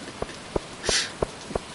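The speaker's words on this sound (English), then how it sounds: "Let's get home with all the rain clinking on my hat." Rain from the Stardew Valley farming game ticks against a character's hat in five sharp, evenly spaced clinks, with a brief soft hiss of drizzle in the middle, near and fairly quiet with no talk.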